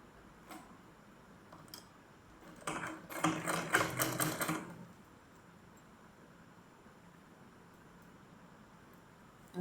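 A sewing machine stitches a pajama seam in one quick, steady burst of about two seconds, fairly close, with a quiet room before and after.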